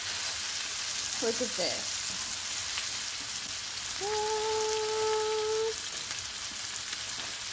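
Korean BBQ meat grilling at home gives a soft, continuous sizzle and crackle, heard close. A brief voice cuts in partway, and a short tonal whine rises above the sizzle near the end.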